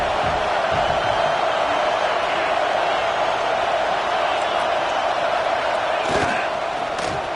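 A stadium crowd roars at an LSU versus Alabama football game, a loud, sustained wall of cheering that holds steady throughout, with a brief louder swell near the end.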